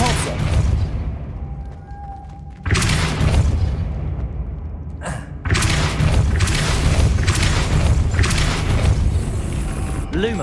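Depulso spell blasts from the video game Hogwarts Legacy, loud booming bursts that hit suddenly, with sharp onsets around three and five seconds followed by rumbling mechanical creaks and a sustained roar.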